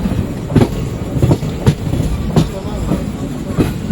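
The Kacheguda Express rattles over points while changing tracks, its wheels giving a steady rumble broken by regular clanking thumps roughly every second, heard from inside the moving train.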